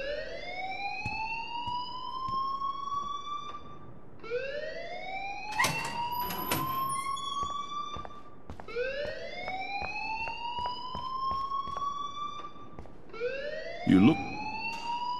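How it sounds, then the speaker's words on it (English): A wailing, rising school fire alarm rings over and over at Blackwell Academy in the video game Life is Strange, each sweep climbing and then cutting off. It is loud and steady, with brief speech and a few sharp knocks beneath it. "please turn off that alarm since that's your job"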